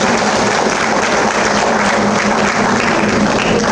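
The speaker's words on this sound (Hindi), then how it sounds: "जोरदार ताली बजाएंगे।" Loud, dense applause from an audience at a village victory celebration honouring newly elected local representatives, steady and sustained throughout with no gaps, close and full.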